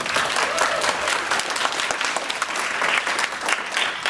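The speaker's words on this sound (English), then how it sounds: "Give a round of applause." Sustained applause fills a school hall at a DARE graduation ceremony: many hands clapping densely and loudly at an even level from start to end.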